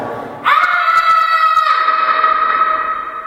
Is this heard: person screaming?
yes